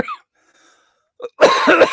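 A man coughs on a live radio show: a small throat sound first, a short quiet pause, then a loud, harsh burst of two or three coughs very close to the microphone.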